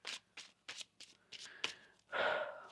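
Tarot cards shuffled by hand: a quick run of crisp riffling bursts in an even rhythm, then a longer, louder riffle at the end, close and quiet with no talking.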